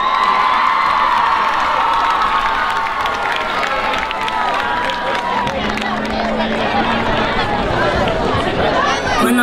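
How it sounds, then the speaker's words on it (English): A stadium crowd at a high school football field cheers, shouts and applauds for a dance team taking the field at midfield, with a loud, continuous roar of voices and clapping throughout. "How about a round of applause for your 2019 Falcon Dance Team?"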